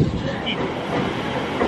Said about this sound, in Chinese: 这是地铁。